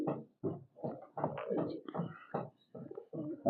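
Pigeons coo in a close run of soft, throaty bursts with short pauses between them, and no voices come through.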